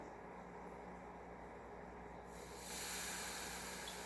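Baking soda reacting with sulfuric acid gives off gas in a steady fizzing hiss that swells louder partway through, continuous and close with no talk.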